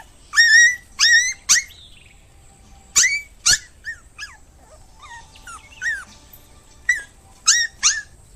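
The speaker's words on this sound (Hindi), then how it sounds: "कुत्ते और गाय रोड पर बैठे हैं।" Dogs bark in short bursts as a story sound effect, several sharp, bright yips in clusters of two or three with gaps between, close and clear over near silence, some yelps rising into whiny tones.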